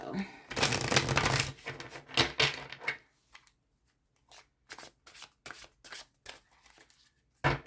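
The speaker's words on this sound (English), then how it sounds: "I shuffled the cards really good before." Tarot cards are shuffled briskly in a dense rustling flurry, followed by a series of separate crisp card riffles and taps with pauses between them, close and moderately loud.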